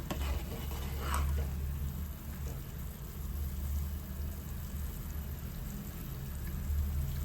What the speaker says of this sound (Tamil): பாருங்க தண்ணி நல்லா கொதிக்குது